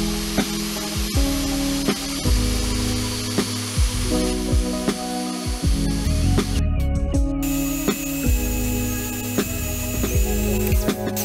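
A Vevor portable bandsaw makes a 45-degree cut through 2-inch square steel tubing, grinding steadily and loudly throughout, with a harsh ringing band of metal-on-metal sawing and a brief change in tone partway through.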